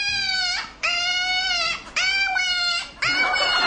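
A dog gives three drawn-out, whining howls that rise and bend like the word "agua", each about a second long with short gaps between, close and loud with no talk over them.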